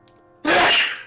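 A single loud, close sneeze bursts out sharply after a moment of near silence, then trails off over about half a second.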